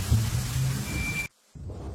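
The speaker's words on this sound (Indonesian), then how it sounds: "Hujannya deras." Heavy rain and thunder outside, a dense roaring wash with low rumble that cuts off abruptly, then resumes more faintly after a brief silence.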